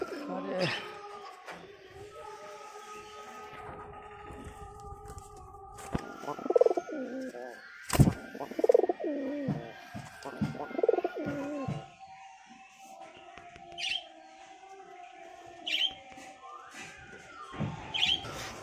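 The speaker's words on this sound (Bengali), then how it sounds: "তো আবারও পায়রার কাছে চলে আসলাম" Pigeons coo repeatedly at close range, soft throaty calls recurring over several seconds amid background chatter and occasional bird chirps.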